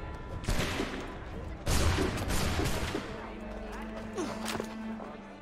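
Gunfire from the Assassin's Creed 3 video game, a burst of rapid shots crackling out around a second in and another heavy volley near the two-second mark over ongoing game noise, with voices talking through the scene.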